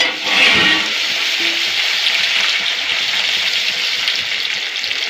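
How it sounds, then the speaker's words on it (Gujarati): Garlic sautéing in hot oil in a pan for a bottle gourd curry, a loud steady close sizzle with a brief stirring burst at the start. "એમાં લસણ ઉમેરીશું, લસણને સાંતળી લેવું."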